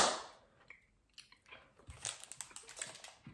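Chewy candy worked like gum in the mouth, close wet chewing and small crunchy clicks, quiet at first and then coming in quick, irregular bursts, with no talking.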